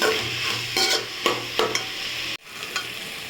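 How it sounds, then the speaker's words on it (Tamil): Tomato and onion being sautéed in a pan with a little salt for a beef pepper gravy: a continuous close sizzle with several sharp spoon scrapes and stirs against the pan, a brief pause, then more sizzling, with no voices. "தக்காளி வெங்காயம் வதங்கிறதுக்கு கொஞ்சமாக உப்பு சேர்த்துக்கலாம் சேர்த்து நல்லா வதக்கிக்கலாம்"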